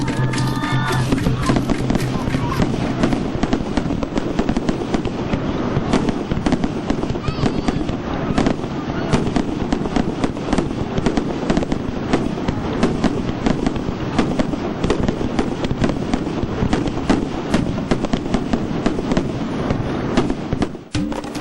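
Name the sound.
fireworks display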